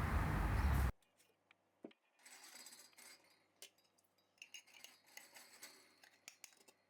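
Glass canning jars of homemade preserved menemen clink and tap in a kitchen as their lids are screwed tight and the jars flipped upside down, with a series of light, scattered knocks and rattles after one loud opening burst.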